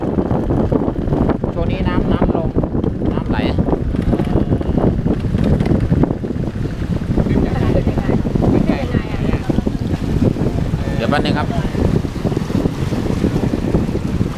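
A long boat travels on a river near a temple in Myeik, Myanmar, with a constant rumbling roar and heavy wind buffeting the microphone throughout. Someone speaks briefly over the noise.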